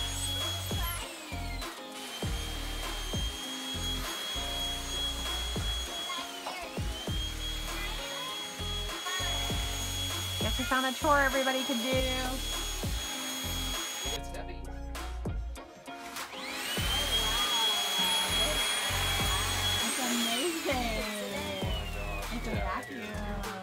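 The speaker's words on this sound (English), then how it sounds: "Then, you got a stand-up vacuum." An upright vacuum cleaner hums steadily in an RV camped by a river, its motor whine running the whole time while people talk over it.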